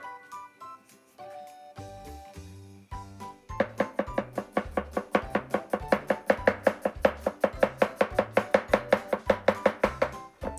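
Garlic chopped finely with a knife on a cutting board, in a kitchen making spicy green chili sauce: a rapid, steady run of close, crisp knife taps that starts sparse and quickens into a dense rhythmic chopping.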